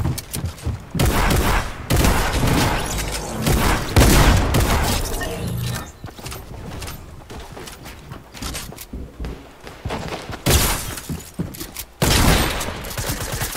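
Rapid bursts of AK rifle fire in a first-person shooter video game, loud and close, with repeated volleys and booming shots running almost continuously throughout.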